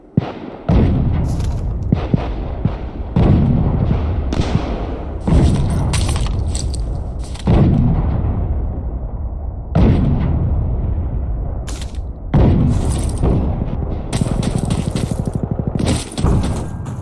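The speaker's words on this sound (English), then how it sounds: "Station, this is Observer. Fire explosive rounds at this location." An artillery barrage in Insurgency Sandstorm hits as a series of heavy, booming explosions, about seven or eight loud blasts spaced a second or two apart, each trailing off with debris and rumble.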